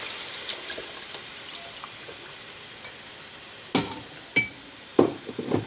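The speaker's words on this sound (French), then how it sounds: "je vais prendre mon champignon, je vais passer au passoire, directement par-dessus le chaudron" Djon djon mushroom liquid is poured through a strainer into a cooking pot, a faint liquid trickle followed by a few sharp metallic clinks and knocks close by.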